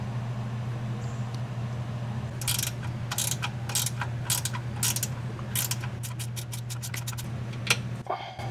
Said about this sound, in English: Next thing I'm going to do is unbolt the ebrake cable bracket